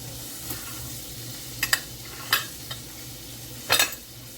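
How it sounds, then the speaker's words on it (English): A spoon scrapes hot cooked spaghetti squash out into a bowl in a few short, sharp scrapes spread over a quiet, steady background. "I scrape it in the bowl like this"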